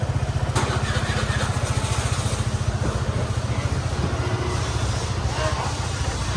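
A Suzuki motorcycle engine runs close by with a steady, rapid throbbing pulse throughout, after a sharp click early on, as the bike is started and taken out for a test ride.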